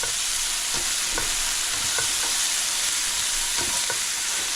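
Beef and broccoli sizzle loudly in a pan on high heat, a steady close frying hiss broken by occasional clicks and scrapes of stirring.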